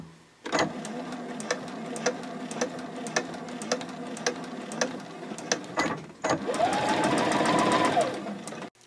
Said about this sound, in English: I am going to stitch 1/4 of an inch away from the edge here, and I will go over it a few times with a stitch length of